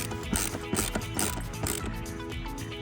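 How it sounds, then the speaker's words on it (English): An LTT ratcheting screwdriver clicks in rapid, even bursts of ratchet-pawl ticks, close and crisp, repeating steadily with no talking over it. "I just want to show off how nice this screwdriver is"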